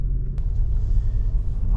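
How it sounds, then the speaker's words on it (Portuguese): Low, steady road rumble inside a Toyota Land Cruiser Prado while driving, quiet and constant, with a brief click partway through. "E o carro é bem silencioso, né?"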